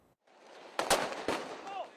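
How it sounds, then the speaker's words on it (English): Fireworks and flares go off at a late-night street protest in Milan as riot police push toward the crowd: two sharp, loud cracks stand over a steady roar of crowd noise and shouting. "Fireworks, flares, and smoke bombs as police in riot gear pushed towards a group of protesters late Saturday night"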